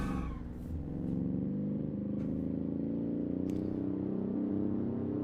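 Virtual car with a 2-speed gearbox in the BeamNG driving game revs up hard, its engine note climbing and holding as a loud, buzzy, continuous drone after a brief dip at the start.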